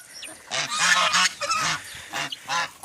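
Three domestic geese honk repeatedly, harsh nasal calls overlapping at close range, rising and falling in bursts with no speech.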